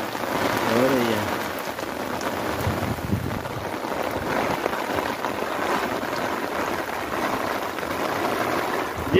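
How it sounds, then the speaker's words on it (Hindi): Heavy rain pours down on a village lane in rural Punjab, Pakistan, a dense, loud, unbroken roar of water; a voice briefly cuts in near the start. "ओए होए होए, ज़बरदस्त तेज बारिश हो रही है।"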